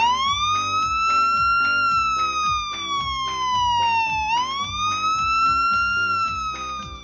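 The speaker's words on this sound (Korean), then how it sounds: "내 친구 구급차 앵앵이야. 앵앵 슝슝!" A cartoon ambulance siren wails loud and alone in smooth, rising and falling sweeps, cycling continuously with a steady rhythmic pulse beneath.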